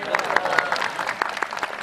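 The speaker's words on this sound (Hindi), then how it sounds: "उनके लिए ताली हो जाए" An audience at a Jagannath katha gathering claps briefly for a child who has managed to stand up, a scattered patter of hands over a voice talking in the room.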